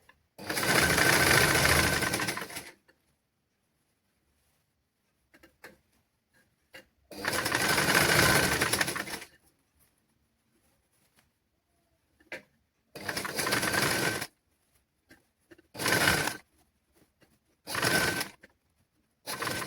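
Sewing machine stitching fabric during a basic tailoring lesson, running in loud bursts of about two seconds, then shorter one-second runs separated by quiet pauses, with no talking.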